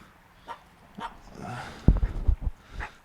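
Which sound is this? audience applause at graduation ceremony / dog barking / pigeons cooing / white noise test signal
dog barking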